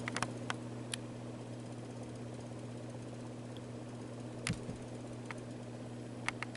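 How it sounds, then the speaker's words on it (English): A 1995 SMC 42-inch hugger ceiling fan gives a steady low mechanical hum with a faint, continuous rattle from its jittering and occasional sharp ticks, like a fan wobbling as it spins. "that rattling sound you're hearing is just because the fan is kind of jittering"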